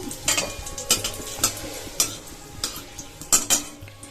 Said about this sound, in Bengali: কড়াই আমি দিয়ে দিয়েছি সর্ষার তেল তেলটা গরম হয়ে গেছে এবার আমি দিয়ে দেব শুকনো লঙ্কা